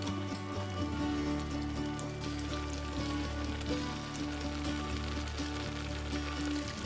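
Braised Korean short ribs simmer in a pot with whole garlic and shiitake mushrooms, giving a steady soft bubbling and sizzle that carries on evenly and fairly quietly throughout.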